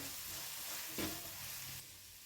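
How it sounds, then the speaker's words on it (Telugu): Spiny gourd curry sizzles steadily in a hot pan as chili powder is stirred in. One brief scraping stir stands out over the close, continuous frying hiss. "ఇప్పుడు కారం వేసుకుందామండి. వేసుకొని బాగా కలుపుకోవాలి."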